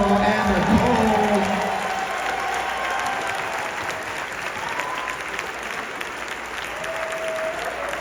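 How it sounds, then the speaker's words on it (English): Crowd applause at a West Coast Swing dance competition, loud clapping and some cheering over music at first, then settling into a steadier, softer clapping wash. "And a round of applause for Hugo and Nicole."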